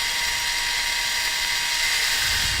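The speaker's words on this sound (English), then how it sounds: "And I'll try not to drill into my own hand." Close, loud power drill running steadily through plastic, a continuous high-pitched whine held for a few seconds with no talking.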